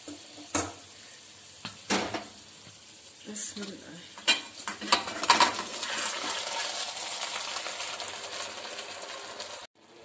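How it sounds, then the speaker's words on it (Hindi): A spoon scrapes and clinks against a pot as cooked rice is stirred gently into melted sugar for sweet zarda, with scattered sharp taps early and then a steady soft sizzle and stirring hiss, close and moderately loud. "चावलों को हल्के हाथों से मैंने चीनी में मिक्स कर लिया"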